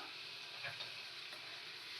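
Minced garlic frying in melted butter in a kadai, a steady soft sizzle with faint stirring ticks, fairly quiet and continuous throughout.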